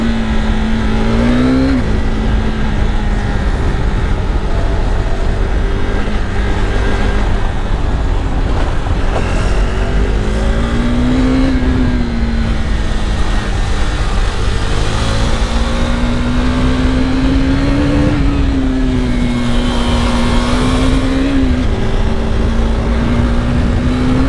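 A 2022 KTM RC390 BS6 motorcycle engine drones loud and close throughout a ride, its pitch rising as it revs through gears and dropping at each shift, with constant wind rush.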